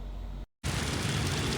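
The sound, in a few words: rain and thunder crack in Kolkata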